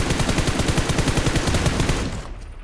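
A loud, rapid burst of automatic weapon fire in the video game PUBG, evenly spaced shots rattling continuously for about two seconds before cutting off into quiet.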